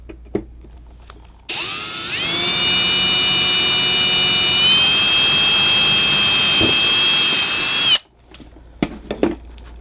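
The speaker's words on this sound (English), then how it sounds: "Drill a pilot hole." A loud power drill drills a pilot hole for a Lippert screen door accessory, running steadily for about six seconds with a high whining tone that shifts pitch midway, with quiet knocks before and after.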